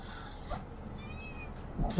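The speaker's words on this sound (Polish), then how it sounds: "Koty jeszcze miałczą." A cat gives a single soft, drawn-out meow in a quiet room, faint and alone over low background noise, with a short rustle just before it.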